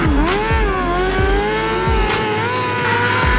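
Micro sprint cars race on a dirt track, their engines a loud, continuous high-pitched whine with rising and falling revs as they pass close by.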